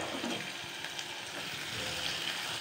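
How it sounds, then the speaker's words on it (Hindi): Chopped onions frying in oil while being stirred, a soft steady sizzle with faint scraping, quiet and close, ending in a short louder clatter. "अब ये देखो हम इसे प्याज को चला रहे हैं।"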